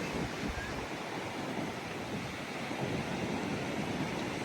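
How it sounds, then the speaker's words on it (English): Steady wind roars across a beach on a cloudy, dark morning at Hilton Head Island, with breaking surf washing underneath in a constant, dense rush and buffeting microphone noise. "it's still cloudy, still dark, wind still blowing in here"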